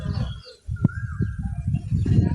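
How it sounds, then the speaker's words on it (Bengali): A koel cuckoo gives a single clear, drawn-out call at middle distance over a steady low rumble of evening wind. "কোকিল ডাকতেছে কু কু করে।"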